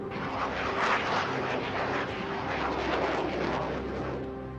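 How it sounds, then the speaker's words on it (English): Loud, continuous roar of jet engines from F-16 fighter jets, a broad rushing thunder that swells and holds steady throughout, with no talk. "scramble a pair of F-16 fighter jets armed with missiles"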